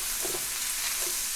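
Onion and garlic sauté in a hot pan, a steady broadband sizzle holding throughout with a couple of soft stirring bumps, close and fairly loud, no voices.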